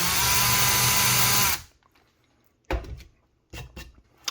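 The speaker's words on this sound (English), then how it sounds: "we've got our countersink bit here, again, into our pilot hole" A power drill with a countersink bit whines at high speed, boring into a pilot hole in wood, then cuts off sharply, followed by a few short knocks and handling sounds.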